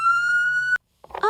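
A toy police car's electronic siren sounds as a single steady, loud held tone for most of a second and cuts off abruptly, followed by a brief burst of chatter-like sound.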